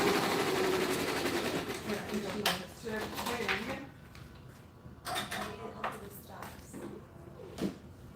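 An SWF 12-needle embroidery machine stitches glitter material with a rapid mechanical whir, while a vacuum runs alongside and people talk nearby over the mid-level hum.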